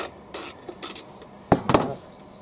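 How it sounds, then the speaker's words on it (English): An 8mm spanner works a nut off a bolt with an 8mm hexagon head, held steady during HYM530SPE drive system repair, giving a few short, close metallic scrapes and clicks in quick bursts. "So I can just lean over the top, hold the bolt, undo the nut."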